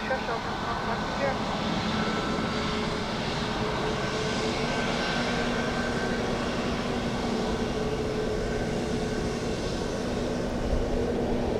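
An airliner landing on runway 28 left at Dublin Airport in a gusty crosswind gives a steady, continuous engine roar that stays loud and even throughout, with radio chatter or talk mixed in underneath.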